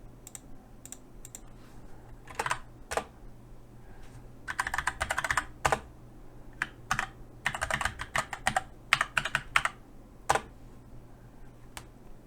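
Password being typed on a computer keyboard during a headless Raspberry Pi 4 Ubuntu server setup, heard as short bursts of crisp key clicks separated by pauses, close and alone.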